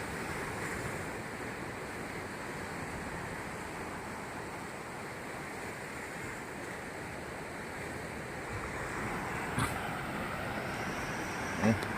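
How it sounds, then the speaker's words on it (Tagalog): Large, strong ocean waves crash on a shore where fishing boats stand by, a loud continuous roar of surf with wind buffeting the microphone throughout. "Laki ng mga alon."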